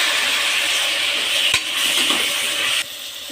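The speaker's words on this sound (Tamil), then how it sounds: "இப்போ இதில் தக்காளி சேர்க்கலாம்" Tomatoes hit a hot pan for tomato rice, a loud, close, hissing sizzle with a sharp utensil clink partway through, then the frying noise abruptly drops to a quieter level.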